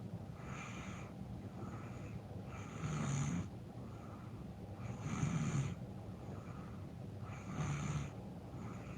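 A person snores in slow, regular cycles, each rough, rumbling inhale rising over a quiet background, with a soft purring quality like a cat; three breaths recur at even intervals with no talking.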